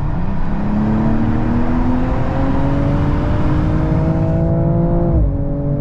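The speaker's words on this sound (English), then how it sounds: "now it's de-restricted again, and let's give it some throttle." A 2022 BMW M240i accelerates hard on a de-restricted Autobahn, its engine tone climbing steadily in one long loud pull, then dipping briefly near the end as the gear changes. Road and wind roar sit close underneath.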